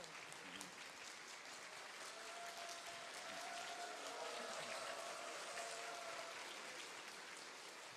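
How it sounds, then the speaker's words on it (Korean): A church audience gives a steady, dense round of applause for a singer. The clapping stays full and continuous throughout, with no talk over it. "자, 이 시간 나오실 때 우리 큰 박수와 함성으로 모시도록 하겠습니다."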